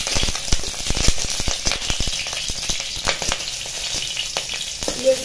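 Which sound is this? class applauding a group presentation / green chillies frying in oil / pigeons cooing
green chillies frying in oil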